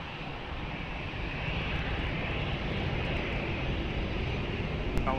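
An airliner takes off from runway 20 at Lisbon Airport, heard as a steady, broad engine roar that builds slightly and holds loud and unbroken throughout, with no voices.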